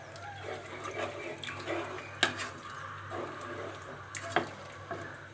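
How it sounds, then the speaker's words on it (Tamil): Water is poured into a pan of kaara kulambu curry and stirred, giving soft sloshing and scraping with a few sharp clinks of a utensil against the pan over a low steady hum, quiet and without talk. "அதுலேயே கொஞ்சம் தண்ணி ஊற்றிட்டு இதில் வந்து கலந்துக்குங்க"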